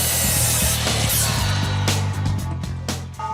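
A handsaw cuts a wooden starter strip during home renovation work, giving rapid, loud rasping strokes with a rhythmic scraping pulse that runs through the whole short clip.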